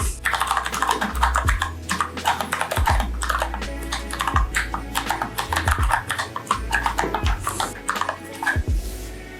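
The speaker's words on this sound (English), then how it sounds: "Let's go ahead and just do a typing test." Rapid, steady clacking of a budget mechanical keyboard being typed on continuously during a typing test, close up, with occasional louder key strikes.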